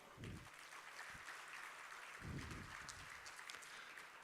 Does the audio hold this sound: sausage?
no